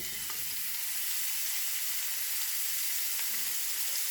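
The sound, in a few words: Andouille sausage searing in oil in a pan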